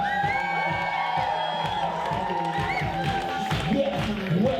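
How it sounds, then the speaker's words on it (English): A crowd at a community kiki ballroom event cheers and whoops over an ongoing beat with loud voices, with only light scattered clapping mixed into the lively noise. "Give that a round of applause."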